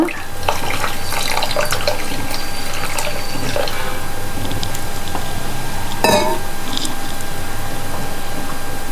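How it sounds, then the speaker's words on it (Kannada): Water runs and splashes continuously into a vessel, loud and close, with occasional clatters and a sharper splash partway through. "ಈಗ ಸ್ವಲ್ಪ ಸ್ವಲ್ಪವೇ ನೀರು ಹಾಕ್ತಾ ಇದ್ದೇನೆ, ಅಂದರೆ ಒಮ್ಮೆಲೆ ಹಾಕೋದಲ್ಲ"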